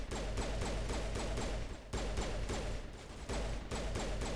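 Rapid, dense bursts of video game gunfire rattle on without a break, loud and close, with short pauses between volleys.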